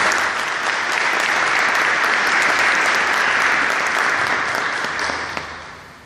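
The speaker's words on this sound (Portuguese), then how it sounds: "Aplauda a palavra do Senhor, irmãos" A church congregation at a charismatic prayer week claps in long, steady, full applause from many hands, even and loud throughout before easing off near the end.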